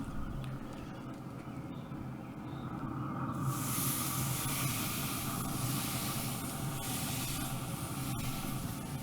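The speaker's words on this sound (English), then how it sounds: "We're fixing to sear this tri-tip off" Tri-tip hits hot Traeger pellet grill grates and a soft, steady sizzling hiss starts a few seconds in, then holds as a continuous quiet crackle with no voices.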